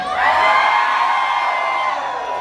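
A live comedy show audience in Houston, Texas, screams and cheers loudly, a dense, sustained roar of whoops and yells from a large crowd lasting the whole stretch, with no talking over it.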